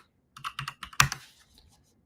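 A computer keyboard clatters in a quick burst of close keystrokes, one louder key strike in the middle, then fading into a few lighter taps before quiet.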